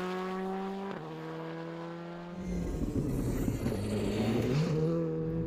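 A Skoda Fabia R5 rally car's engine drones with steady harmonics on a rally stage, then surges louder and rougher as it accelerates, climbing in pitch near and close throughout, with no talk.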